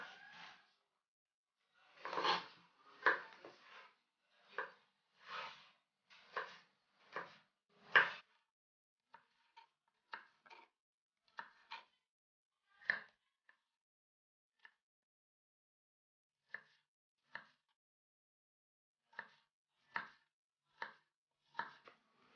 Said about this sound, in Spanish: Vamos a cortar el pepino